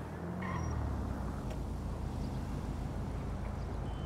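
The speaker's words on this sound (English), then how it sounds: "So that sounds like a powerful car." A powerful car engine in the video game GTA V rumbles low and steady, a moderately distant passing drone that swells briefly near the start, with no talking.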